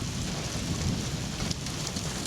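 Steady heavy rain and low rumbling from a thunderstorm near the town of Barron, a dense continuous roar without pause, with a few brief sharper crackles midway through.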